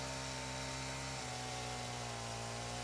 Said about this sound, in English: Apologies for the very long chainsaw sound. That was the autosave.